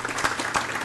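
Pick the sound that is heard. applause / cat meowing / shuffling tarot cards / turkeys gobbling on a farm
applause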